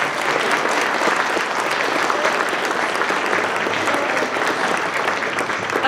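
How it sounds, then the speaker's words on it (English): Town hall meeting audience applauds steadily, a dense wash of clapping hands that stays loud and even from start to finish. "another round of applause for these guys,"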